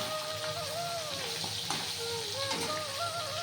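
Fish frying in a pan at home, a steady soft sizzle and crackle of hot oil running continuously at close range, fairly quiet, with no talk over it.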